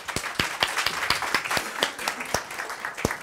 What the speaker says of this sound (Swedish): en applåd till dig